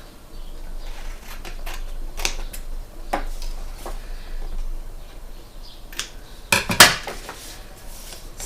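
Paper is cut on an envelope punch board: a series of sharp, close clicks and light tapping, then a louder crisp snap near the end, with no speech.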